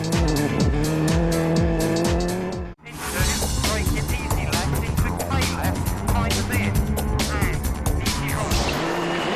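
A Subaru rally car on a special stage at Rally Great Britain, its engine blaring and revving through gear changes, with a sharp cut into another loud passage of engine roar and tire noise under commentary.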